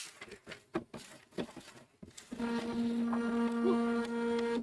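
An AppleTalk network printer whirs with a steady motor hum after a few scattered clicks and rustles, running continuously at moderate volume.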